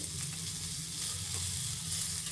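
Onions frying in a small amount of oil for paya soup, a steady close sizzle with a low hum underneath, continuous with no voices.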